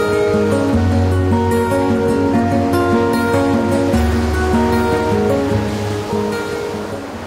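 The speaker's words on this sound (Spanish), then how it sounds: "El mar es algo increíble." Ocean waves wash steadily onto Tres Puntas beach in Tumbes, Peru, a continuous broad surf roar that holds at full strength and eases slightly near the end, with no voices.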